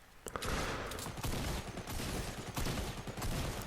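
Rapid bursts of gunfire from the Fortnite video game, a dense, continuous volley of shots filling the whole moment with no voices over it.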